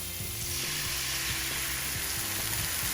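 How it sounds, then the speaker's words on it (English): An egg frying in a pan gives a steady, close, loud sizzle with crackling throughout and no voices. "Now I'm gonna put my egg on here too."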